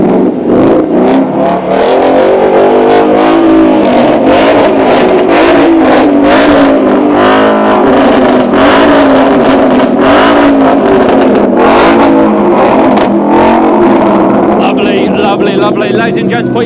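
A Ford Mustang sits at a supercar weekend event and revs hard and repeatedly, loud and close. The engine roars rise and fall in sustained bursts while a presenter speaks over an outdoor crowd.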